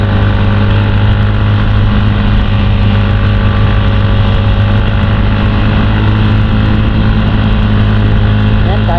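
A Honda Click scooter climbs uphill with a loud, steady engine drone and humming tone heard close up from the rider's position, plus constant road and wind noise.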